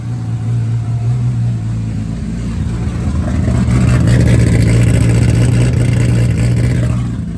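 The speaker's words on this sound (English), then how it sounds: "the new motor runs so good" Newly built 1.5JZ car engine running loud and close, a steady low idle that rises into a sustained rev midway before easing back.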